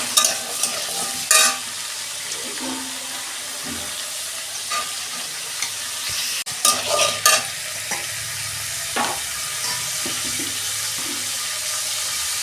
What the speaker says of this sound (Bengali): পেঁপে আর ছোলার ডালটা আমি ভেজে নেব